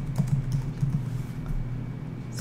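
Steady typing on a computer keyboard while entering agent details into office software, a quick even patter of keystrokes with no voices.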